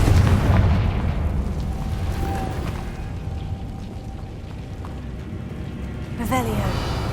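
Confringo fire spell bursting in Hogwarts Legacy, a booming explosive hit with rumbling tail and a sharp later impact, heard among spell casts and a player's shouted incantations.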